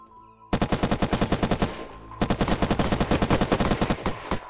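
Rapid automatic gunfire from the survival game Unturned during an online PvP raid: a loud burst of about a dozen shots, a short pause, then another long burst of steady rapid fire, up close and with no talk.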